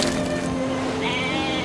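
Sheep bleating in the strategy game Civilization, a short wavering game-animal bleat held steady and fairly loud for under two seconds, with no talk over it.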